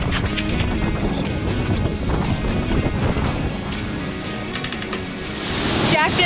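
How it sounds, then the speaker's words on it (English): Steady strong wind roars across the microphone aboard a sailboat at sea in about 26 knots of apparent wind, with broadband rushing noise throughout and a brief rise in gusting near the end; no speech is heard. "We've got 26 knots of apparent wind now"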